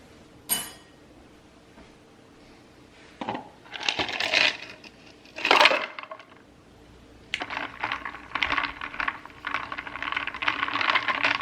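Ice cubes clatter and clink into a cup in several bursts, rattling and tumbling, close by, with no talking.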